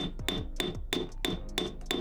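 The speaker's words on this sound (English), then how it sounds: "Now take an anvil and a hammer and start flattening the rivet stem." Steady, evenly spaced hammer strikes flattening a rivet stem on an anvil, about three per second, each with a bright metallic ringing tone, close and alone.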